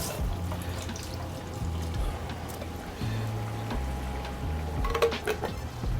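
Water is swirled inside an emptied 128-ounce can of crushed tomatoes and poured into a pot of lamb bolognese in a home kitchen, with low rumbling, soft sloshing and a few light metallic clinks toward the end.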